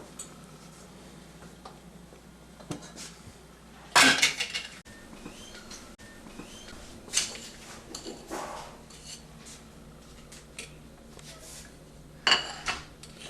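A utensil clinks and scrapes against a bowl while butter and melted chocolate are beaten together for Swiss truffles: scattered sharp knocks and taps of varying loudness over quiet kitchen background, with no voices.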